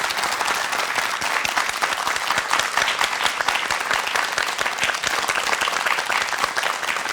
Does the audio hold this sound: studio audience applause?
yes